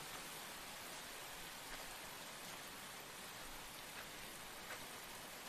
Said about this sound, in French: Il pleut de plus en plus.